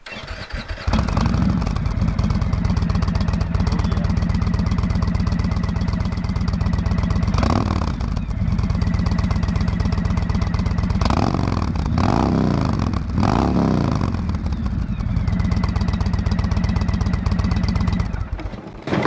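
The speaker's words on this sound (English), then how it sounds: "we're gonna start it up, see how it sounds" A 2018 Indian Chieftain motorcycle with a Stage 1 performance upgrade starts up and idles with a loud, steady rumble, then revs sharply in several blips around the middle before settling back to idle.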